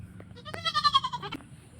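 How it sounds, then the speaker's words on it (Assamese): A young goat gives one short, wavering bleat up close against a quiet background. "দেখিছেনে কিমান ধুনীয়া ছাগলী পোৱালিটো"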